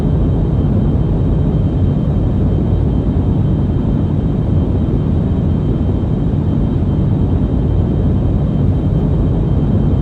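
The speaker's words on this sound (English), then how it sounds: "Mimicking a turbofan engine. Okay, let's hope my GPS works. GPS joystick works. Takeoff thrust set." Simulated DG-S scramjet engines at takeoff thrust in the Orbiter 2016 space flight simulator, a steady loud roaring rumble that runs unbroken throughout with no voices.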